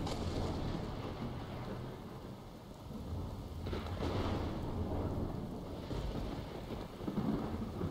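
Steady rain pours down while low thunder rumbles and rolls in the distance, swelling a couple of times before fading back, in the video game Skyrim.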